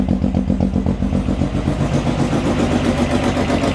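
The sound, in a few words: engine running loudly after adding coolant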